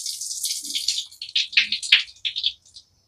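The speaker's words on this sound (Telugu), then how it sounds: "కాబట్టి మనము పప్పును శుభ్రంగా కడుక్కోవాలి." Lentils being rinsed by hand in water, short splashing swishes and sloshes in a bowl coming in quick bursts before falling silent.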